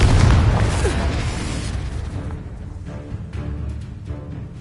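Loud explosive spell blasts from the Hogwarts Legacy video game, a heavy booming burst up front that rolls off into a sustained rumbling decay with scattered crackles.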